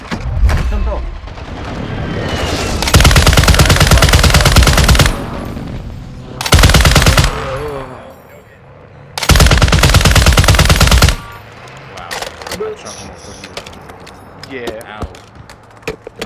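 Machine gun fire in the Call of Duty: Warzone 2 video game, from a RAAL MG, comes in three loud sustained bursts of rapid automatic shots, separated by quieter gaps with scattered game sounds and occasional players' voices.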